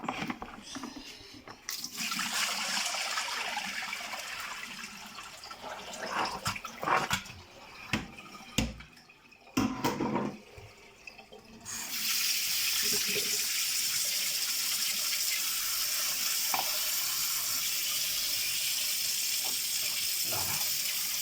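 Tap water runs steadily as crayfish from Louisiana fishing are washed, a hissing stream broken by splashing and clattering midway before resuming strong and continuous.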